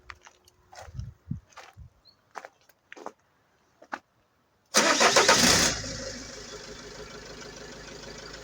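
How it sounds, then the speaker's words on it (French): Diesel engine of a Citroën Jumper, Peugeot Boxer or Fiat Ducato van cranks and fires after some quiet clicks and taps, a loud burst of revving that settles into a steady, close idle rumble. "on va pouvoir démarrer le véhicule"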